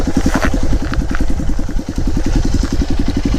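A modified Hero Impulse motorcycle idles close by, its loud exhaust thumping in a rapid, even pulse with a rough, clattering edge that holds steady throughout.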